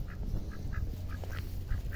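Ducks on a farm quack softly in a quick series of short, repeated calls, slightly distant over a low background hum.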